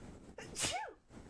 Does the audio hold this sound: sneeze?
yes